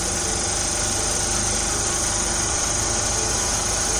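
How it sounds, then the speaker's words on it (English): Electric motor held at 1500 rpm during a load test, giving a steady, continuous hum with constant vibration and no change in pitch or level throughout, close and fairly loud with no talking. "when the motor is running, you have to actually maintain the speed of 1500 rpm"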